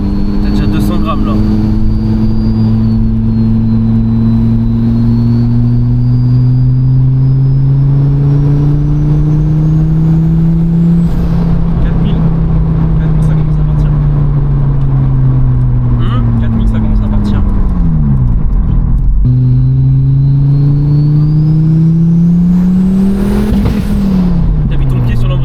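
An Audi fitted with a Porsche engine accelerates hard in third gear, its loud engine note climbing steadily in pitch, dropping at a shift, then rising again up to a shift cut, with voices talking over it.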